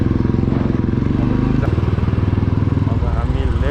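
A CX250SE motorcycle engine runs with a steady pulsing putter, close and fairly loud, its rhythm shifting slightly as it rides along, with a voice talking over it.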